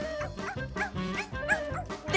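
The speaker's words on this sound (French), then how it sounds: "Ah, c'est le chien qu'on n'attendait plus." A dog yips and whimpers in a short run of excited, high-pitched sounds, close by and fairly loud, with no talking.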